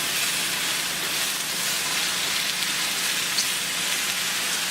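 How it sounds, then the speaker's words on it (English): Mushrooms sautéing in a slightly too-small pot alongside browning ground beef, a steady close hiss and sizzle that runs evenly and alone throughout. "go ahead and get your mushroom sauteing and get your ground beef browning"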